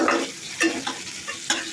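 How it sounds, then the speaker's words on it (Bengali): Potato pieces frying in oil in a pan for a potato and pumpkin curry, a steady sizzle broken by a few scraping stirs of the spoon, close up with no talk. "আলুটাকে লাল করে ভেজে নিচ্ছি"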